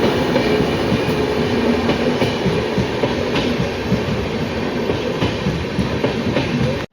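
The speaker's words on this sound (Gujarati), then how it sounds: "આપણી ટ્રેન ઉપડી ગઈ છે બરોબર." A Bandra-bound train pulls away on the rails near Virpur, Gujarat, with a loud, continuous rumble and rolling wheel clatter close by that ends abruptly with no voices.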